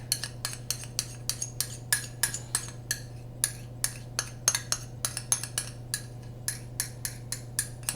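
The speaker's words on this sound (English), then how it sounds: "Just grab myself a spoon so I could have scraped this out nicely." A metal spoon scrapes out a bowl of simple potato chip mixture, giving a steady run of sharp, close clinks and scrapes in a quick rhythm over a low background hum.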